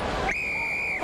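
A referee's whistle at the 2014 USA v Scotland rugby international, one sharp, clear blast lasting most of a second above a murmur of stadium crowd.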